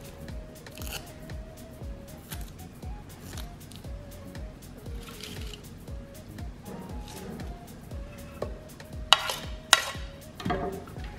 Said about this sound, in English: So I'm just going to grate this quickly to grab and to extract the juice.